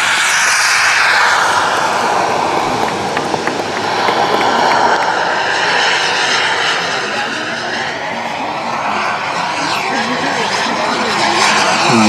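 A loud jet aircraft roars overhead, its engine noise sweeping steadily across the clip as a voice talks over it.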